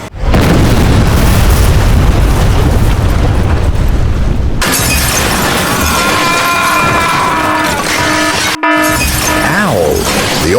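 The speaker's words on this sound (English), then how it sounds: "The oil well just exploded." A loud, dense roar and rushing blast as an oil well on a drilling rig erupts from the ground, continuous and powerful, shifting abruptly midway into a hissing, ringing gush with tonal whines before the clip ends.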